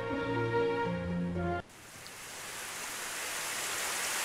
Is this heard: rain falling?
yes